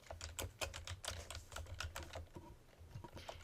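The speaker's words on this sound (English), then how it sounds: "I'm just typing the normal keys" Close, rapid keystrokes rattle across a computer keyboard as normal keys are typed in an irregular rhythm of soft clicks, quiet overall with no speech.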